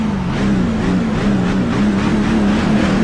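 A race truck engine at Daytona during a Craftsman Truck Series race drones steadily and loudly for about three seconds, holding a near-constant pitch with no voices over it.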